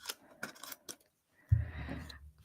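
Scissors snip through scrapbook paper in several quick close cuts, followed by a louder rustle and slide of the sheet as it is handled on a tabletop.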